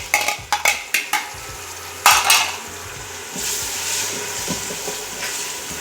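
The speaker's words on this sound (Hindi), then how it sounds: "इसको हल्का सा फ्राई करेंगे" Garlic and ginger paste frying in a pan for dhaba-style daal chana, opening with several loud scrapes of a metal spoon against the pan, then a steady close sizzle after more stirring.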